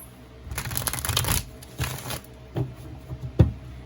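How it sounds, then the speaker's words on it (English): Someone shuffles a deck of tarot cards in several quick, papery bursts, loud up close and separated by short pauses, with no talking. "I'll just shuffle this. I feel like shuffling it"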